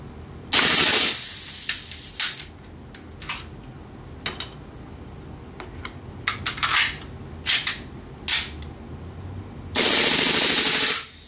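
A GSG 92 CO2 airsoft pistol fires on full auto, with loud sustained bursts at the start and end and scattered sharp pops and clicks in between, up close.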